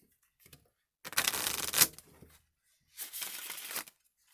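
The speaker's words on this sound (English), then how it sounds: "if you can get past the freakish size, they shuffle okay" Two quick riffle shuffles of an oversized Hogwarts-themed deck of slightly sticky playing cards, each a close, crisp papery burst lasting about a second, separated by a short quiet pause.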